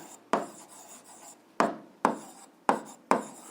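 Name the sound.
writing the solution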